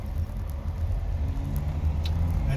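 Dacia Duster 2 dCi 110 EDC diesel with automatic gearbox heard from inside while driving, a steady low engine and road rumble throughout.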